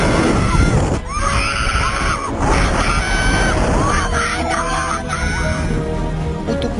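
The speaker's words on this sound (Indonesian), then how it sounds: "ia pun menjerit sejadi-jadinya dan terus memanggil mamanya" A woman screams in fear, loud and sustained, with several wailing cries over a noisy background and no clear talk.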